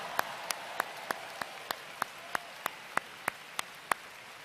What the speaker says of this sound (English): Let's give it up, a round of applause for those paying out-of-state tuition,